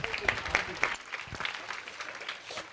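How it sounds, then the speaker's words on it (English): A school audience at an international school event claps in a brief, moderately faint burst of applause, with a few sharp louder claps near the start and scattered voices in the room. "Let us welcome ma'am with a huge round of applause."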